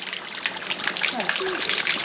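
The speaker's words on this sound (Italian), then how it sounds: "C'è una bella fontanella dove adesso berrò un po' d'acqua." A small public drinking fountain runs steadily with a soft hiss and trickle of water, close by, with faint voices in the background.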